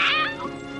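A cat in a French-language fantasy video game gives a single close, high meow that fades into a lower trailing murmur within a second.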